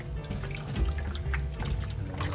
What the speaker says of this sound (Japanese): これちょっと水洗いしていきます。